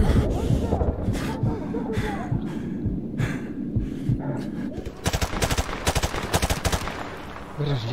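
Rapid automatic gunfire in Call of Duty: Modern Warfare Remastered: scattered sharp shots early on, then a dense, fast burst of loud firing in the second half, with a voice talking in places.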